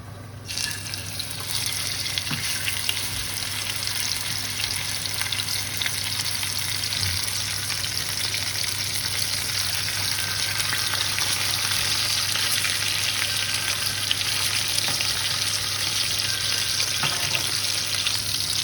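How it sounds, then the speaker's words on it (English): Pork chops frying in very hot oil in a pan make a loud, dense, continuous sizzle close at hand, with a few faint clicks and no voices. "So we need to fry it for about 6 to 7 minutes on one side"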